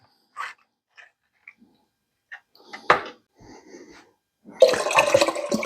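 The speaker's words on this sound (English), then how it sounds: "Pour it in there." A few scattered clinks and knocks, then a steady rushing splash of beef broth pouring into a pot, close and fairly loud.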